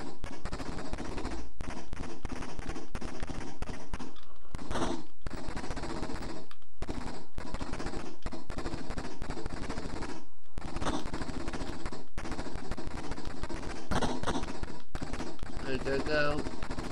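Rapid bursts of gunfire from the Amstrad CPC464 game Operation Hanoi come in choppy, repeated volleys with brief gaps, loud and close, and a voice talks intermittently over the shooting.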